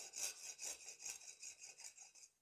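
A branch is cut from a Chinese quince bonsai with a hand saw, giving about nine quick, rhythmic rasping strokes that fade slightly toward the end, quiet and close with no talking.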